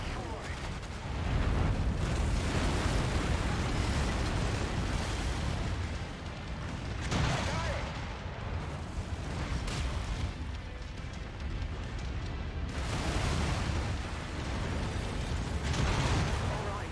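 Missile explosions and heavy booms in the MechWarrior 5: Mercenaries mech combat game, dense rumbling blasts in several waves over loud continuous battle noise, with a voice talking over them.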